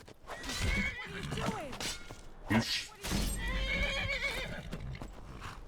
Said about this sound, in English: Stop beating up my horse.